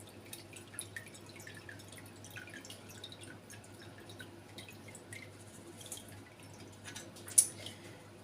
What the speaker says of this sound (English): all of my tallow is in the bowl now, and I'm just going to let it strain out a little